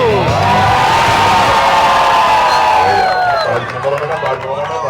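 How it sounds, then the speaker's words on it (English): A loud Brazilian crowd cheers and whoops during a giant sandwich eating challenge, with voices rising and falling in excited shouts and babble before the cheering tapers off near the end. "this is the first time I ever got cheered on just for cutting a sandwich"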